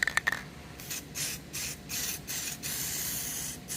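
Spray can applying key coat primer to a freshly drilled car part in bursts: a few quick clicks, then several sustained hissing sprays separated by brief pauses, loud and close with no speech.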